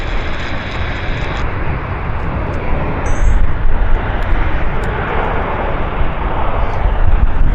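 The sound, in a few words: French Air Force Airbus A400 aircraft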